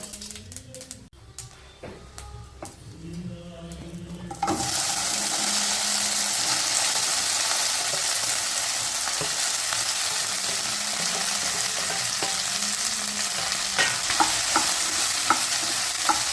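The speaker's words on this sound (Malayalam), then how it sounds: "അത് നമുക്ക് നന്നായി ഒന്ന് വഴറ്റിയെടുക്കാം" Chopped okra is dropped into a hot pan and sautéed, bursting into a loud, continuous sizzle after a few quiet clinks, with steady stirring scrapes and occasional spatter throughout.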